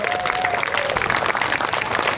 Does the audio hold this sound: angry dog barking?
no